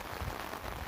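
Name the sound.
torrential monsoon rain falling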